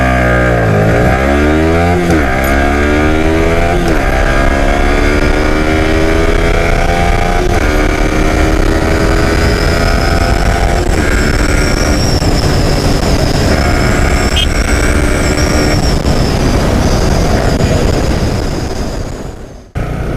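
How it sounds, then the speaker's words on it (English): A Yamaha R15 V3 sport motorcycle with a single-cylinder 155cc engine launches hard in first gear, its loud, steady engine note climbing through repeated rising sweeps close by for about twenty seconds before cutting off abruptly. "So let's do a quick acceleration test of the Yamaha R15."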